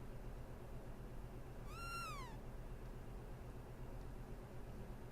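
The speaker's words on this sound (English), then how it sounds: "Look, Chrono, your cat's running away because you haven't been feeding it." A single cat meow from the Chrono Trigger video game, a rising-then-falling synthesized cry heard once, alone over a steady low background hum.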